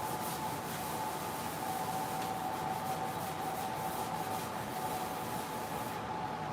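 Steady, continuous rubbing and scrubbing of lint off a shirt, close and even, with a faint constant hum underneath and no talking.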